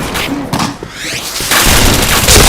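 A grenade goes off in the shooter game Point Blank, a heavy booming blast within dense, loud gunfire and crashing battle noise.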